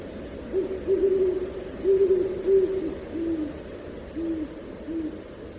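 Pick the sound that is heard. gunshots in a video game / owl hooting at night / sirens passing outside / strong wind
owl hooting at night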